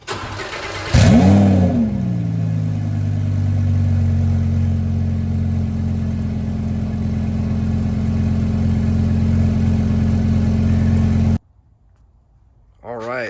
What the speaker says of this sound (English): we'll do a little video just cold start from the trailer